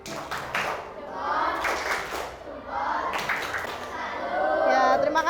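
A primary school class claps a rhythmic salute in several patterned bursts, with children's voices chattering between and under the clapping in a classroom.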